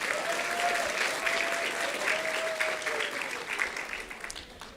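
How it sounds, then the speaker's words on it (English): Sustained applause from an audience at a children's pageant, honoring all the contestants, a dense steady wash of clapping that holds for several seconds, with a faint thin tone drifting above it. "Let's give all the contestants a round of applause."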